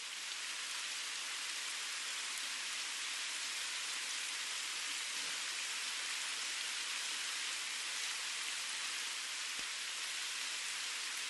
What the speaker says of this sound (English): It's rain, right?